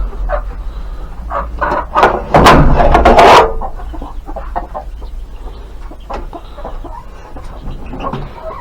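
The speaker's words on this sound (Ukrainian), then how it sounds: "зараз я випускаю наших курей. Хай біжать." Chickens cluck and squawk nearby, with a loud burst of flapping and cackling early on, then scattered clucks continuing.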